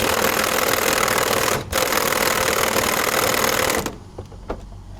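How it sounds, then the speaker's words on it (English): Hydraulic press pump on a shop press recharging during a Jaguar XKR/XK8 top wishbone fulcrum bolt removal, a steady broadband mechanical drone with one brief dropout, ending abruptly into quieter room noise with faint clicks. "So the press is just recharging."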